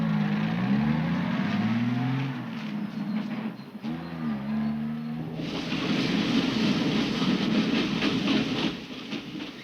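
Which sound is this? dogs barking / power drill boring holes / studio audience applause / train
train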